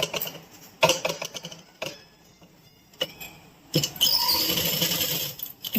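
A sewing machine stitches a kurti in short bursts, its rapid needle clatter starting and stopping, with a longer, steadier run near the end, close and moderately loud.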